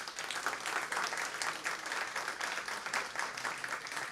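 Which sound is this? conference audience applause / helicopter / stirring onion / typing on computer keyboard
conference audience applause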